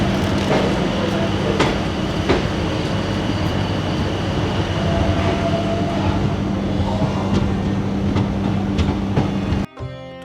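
Chitrakoot Express train departing Banda railway station in India: a steady, loud rumble of rolling rail cars with a sustained low hum and faint squeals, continuous throughout before ending abruptly.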